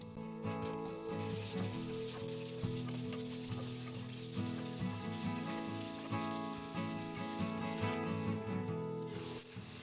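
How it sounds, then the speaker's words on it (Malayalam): Ginger, green chili, garlic, shallots and onion sautéing in a pan for a creamy chicken curry, a steady close sizzle and fry running the whole time under a constant tonal background, no talking. "ഇഞ്ചി പച്ചമുളക് വെളുത്തുള്ളി ചെറിയുള്ളി സവാള എന്നിവ ചേർത്ത് ചെറുതായി വഴറ്റിയെടുക്കാം"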